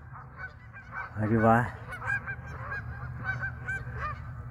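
Geese honk on a lake, one loud nearby honk followed by scattered softer honks from the flock, while someone talks quietly over them.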